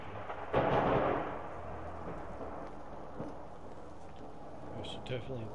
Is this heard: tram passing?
no